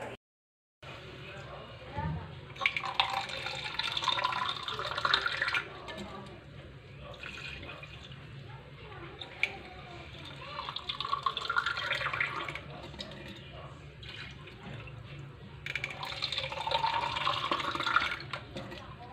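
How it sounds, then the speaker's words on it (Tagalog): Water pours into a pot of softened chayote to make soup broth, a continuous splashing fill with louder bursts, heard close alongside someone talking. "lalagyan ko na nga yan ng tubig na magsisilbing sabaw nga rin"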